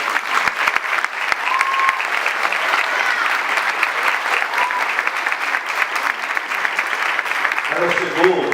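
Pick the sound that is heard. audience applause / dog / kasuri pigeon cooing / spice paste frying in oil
audience applause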